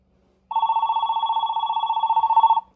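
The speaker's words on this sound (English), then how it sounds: "That's typical AT&T ringer" The ringer of an AT&T 730 telephone rings loud and close in one sustained burst of about two seconds, a rapid trilling bell with steady fast pulsing, alone with no talk.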